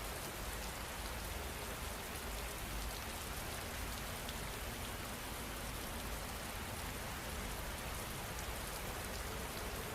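Continuous rain falling, an even hiss of drops pattering on surfaces, steady and unchanging throughout with no voices or other sounds.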